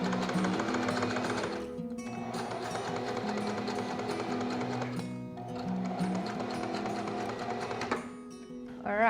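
A sewing machine runs in long steady bursts while stitching around a V-neck neckline on a babydoll dress, with brief pauses between runs, close and fairly loud with no talk.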